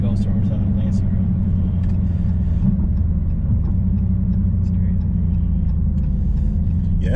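A Dodge Charger Scat Pack's V8 engine and exhaust rumble steadily from inside the car while driving, a low continuous drone with faint occasional pops, and people talk over it.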